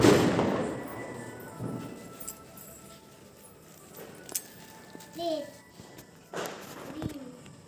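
Diwali firecrackers go off outdoors, one loud burst at the start followed by fainter pops and crackles, while children and adults talk and call out throughout.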